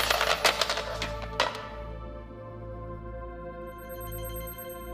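A phone ringtone rings in a dubbed Hollywood action movie scene: a steady electronic tone with sharp bursts at first, then a thinner, sustained ringing over a low hum, with no talk.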